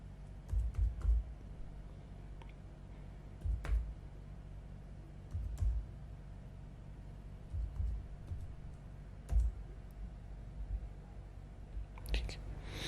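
Computer keyboard being typed on to enter deposit details, with soft scattered keystrokes and clicks at close range over a low background hum.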